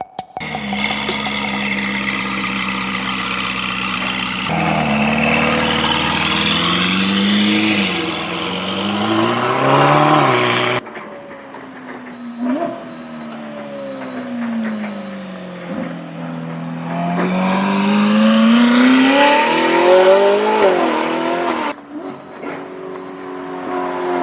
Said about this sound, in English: let me start the engine for you